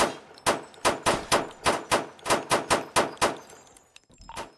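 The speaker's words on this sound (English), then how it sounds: "Dispatch, we have shots heard." A rapid string of about a dozen loud gunshots fired in quick succession during a police traffic stop, sharp evenly spaced cracks with a brief pause and a final softer report at the end.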